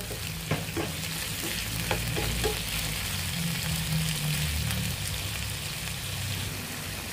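Meat and shrimp paste frying in a pan, a continuous hiss and crackle of sizzling grease with a few stirring clicks and scrapes, close and steady, with no talk.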